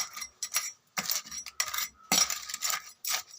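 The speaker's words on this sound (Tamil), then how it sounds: "இப்போ இதை நம்ம கிளற போகிறோம்" Crab gravy being stirred in a pot with tamarind water added, a spoon scraping and clinking against the metal in a run of short, close, uneven strokes with brief pauses between them.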